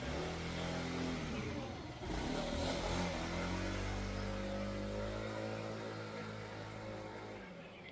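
A Sym Jet-X 125 scooter with freshly changed front shock oil and front wheel bearings is ridden, its small engine droning steadily and loudly, rising and falling in pitch as the throttle changes.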